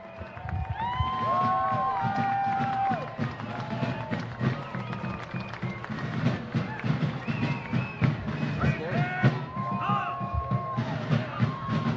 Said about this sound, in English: How about a round of applause for those who have served our country with their blood?